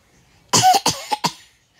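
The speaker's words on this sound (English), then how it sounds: "I have a cough." A close, loud run of about four harsh coughs in quick succession, recorded during a blooper take, then silence.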